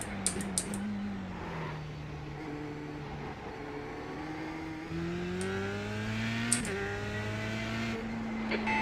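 Dallara F3 race car in iRacing at Tsukuba circuit, a high-revving engine whine rising and falling through gear changes, steady and close, with brief clicks and no talking.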